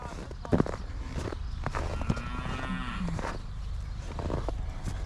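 A cow moos on a working farm while cattle are being fed and checked, the call rising clearly over shuffling hooves and faint background voices.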